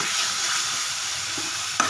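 Spices crackle and sizzle steadily in hot oil up close, with a light clink of a utensil near the end.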